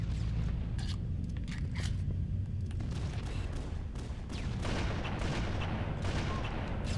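Gunfire in a multiplayer match of the video game Halo: Combat Evolved, repeated sharp shots and heavier booms over a constant low rumble, close and loud throughout.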